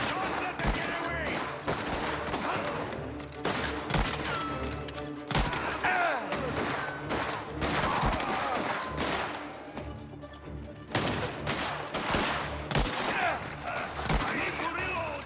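Gunfire crackles in the video game Mafia: The Old Country, with repeated bursts of shots and sharp bangs over about fifteen seconds, loud and close, layered with other combat noise.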